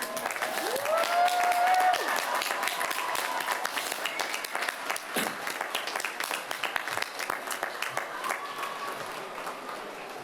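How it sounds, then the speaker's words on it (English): An audience at a community college commencement ceremony breaks into sustained applause for the graduates, a steady wash of many hands clapping at a moderate distance, with a brief voice near the start. "let's give our graduates a round of applause."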